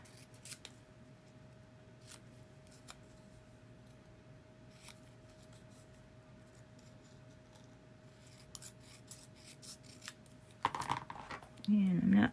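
Scissors cut out a paper printout, giving soft, intermittent snips and faint paper rustles at close range, with a louder burst of handling near the end and a quiet background hum.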